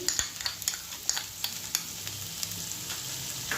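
A pan of vegetarian navratan curry, with yogurt just added, is stirred over the heat. The spoon scrapes in quick, irregular strokes over a steady sizzle, close and clear, with no talking.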